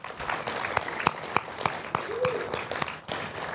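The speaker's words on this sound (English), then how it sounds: "Can we all give them a round of applause?" Audience at an award ceremony breaks into applause, a sustained patter of many hands clapping in a room, moderately loud with a few sharper claps standing out, and a voice briefly heard.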